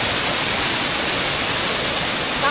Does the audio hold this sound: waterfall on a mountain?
yes